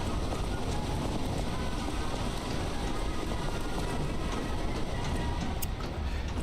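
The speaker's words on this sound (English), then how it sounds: "Because you've got the tram car." A tram car runs in the Lies of P video game with a steady, dense rumbling wash of noise that stays loud and even throughout, with no talking.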